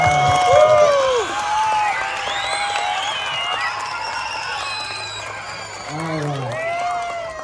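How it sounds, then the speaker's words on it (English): An elementary school audience claps and cheers for students who have just read their class poem, with whoops and excited children's voices rising over the applause, which fades partway through and then swells again. "Let's give them a round of applause"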